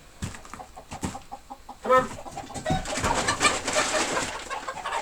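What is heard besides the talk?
chickens, hens and a rooster, clucking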